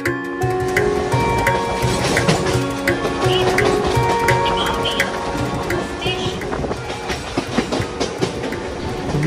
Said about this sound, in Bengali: উলুবেড়িয়া থেকে আমরা ট্রাভেল করছি খড়গপুর হাওড়া লোকালে।